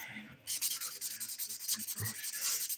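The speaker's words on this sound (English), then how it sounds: "I'm using the 100 grit side of this sponge buffer. Sponge file, I mean, to Buff." Sponge nail file, 100 grit side, buffing a fingernail: close, steady scratchy rubbing in quick repeated back-and-forth strokes, starting after a short quiet moment and continuing evenly.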